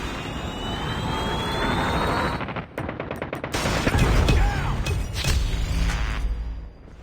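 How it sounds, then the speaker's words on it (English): Incoming Predator missile in Call of Duty roars in over dense automatic gunfire, a loud rushing whoosh with a brief dip mid-clip before the blast and rattling fire return, no talk. "Friendly Predator missile inbound."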